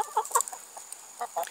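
A hen clucking close by in a short series of quick, sharp clucks, several clustered near the start and more toward the end, with little else around.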